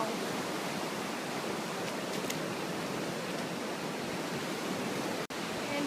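Floodwater swirling around a backyard patio with a small patio table during flooding, a steady broadband rush of moving water filling the scene at a constant level, with a brief sharp dropout near the end.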